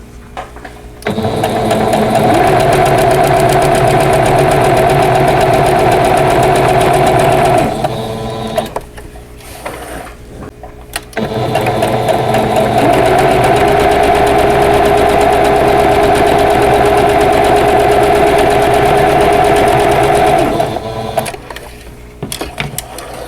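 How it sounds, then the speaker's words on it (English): Sewing machine stitching along the marked lines of a pieced quilt block for Mosaic Block 19, running steadily in two long close bursts with a short pause between them. "So I'm going to sew on both of these lines"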